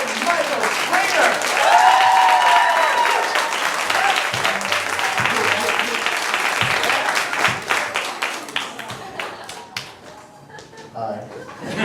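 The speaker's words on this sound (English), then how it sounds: "Guys, you can keep that applause rolling" Audience applause at an intro stand-up comedy class show swells loudly and then thins into scattered claps, while a host's voice talks over it.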